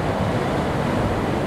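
Surf rolling onto the shore at Gondo Mayit beach at night, a loud steady roar of breaking waves with wind rushing across the microphone.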